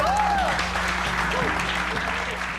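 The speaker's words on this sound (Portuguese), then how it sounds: "Aplausos pra ele!" A conference crowd at DDC Samsys 2024 applauds a speaker, a dense wash of clapping heard through a roomy hall with a tonal whine and some voices faintly underneath.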